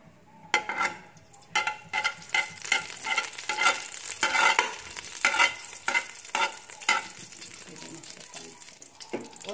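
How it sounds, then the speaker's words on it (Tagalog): Cooking oil sizzles in a pan while ginger is sautéed for nilagang adidas, chicken feet, with a steady frying hiss and repeated close scraping stirs and clatters of a utensil against the pan. "we will put a small amount of cooking oil for sauteing."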